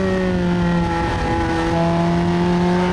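A modified Ferrari 360 Modena in sport mode drones steadily on the road, its engine holding loud, sustained tones that shift slightly in pitch as it pulls, close and continuous with no talk.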